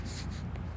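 Pen strokes on a board during a geometry lesson, a short close scratchy rubbing with a couple of quick swipes over a low background rumble.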